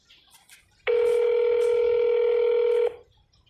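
A single steady electronic tone sounds for about two seconds over a faint background, like a phone line ringing or dialing.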